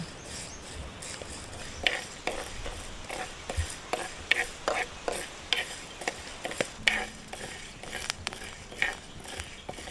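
Raw rice frying and being stirred in a pan for an old Mangalorean Aati recipe, with a soft continuous sizzle and scattered scraping and tapping of the spoon against the pan.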